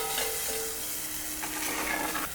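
Tempering for fish curry (kuzhambu) gives a loud, close, continuous sizzle and crackle of hot oil, with a few brief stirring clatters and no talking.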